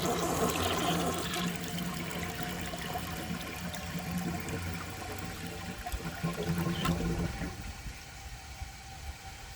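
A 1981 Kilgore Apex toilet with a small, unglazed trapway flushes in a loud rush of water that settles into gurgling and trickling before fading near the end.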